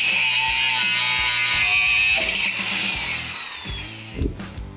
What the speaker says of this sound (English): until we get to the leaf spring bolts that are seized inside the bushing sleeves, which require a little more use of the impact